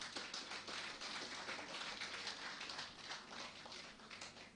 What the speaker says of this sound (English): I think this event deserves a very warm round of applause.